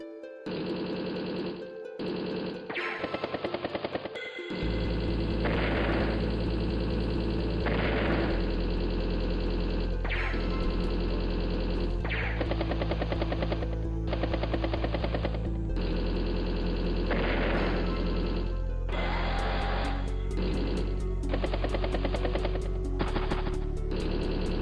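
Battlecopter and tank gunfire from the video game Advance Wars: Days of Ruin, a loud, continuous run of layered game sound effects with repeated firing bursts over steady background music, and no talking.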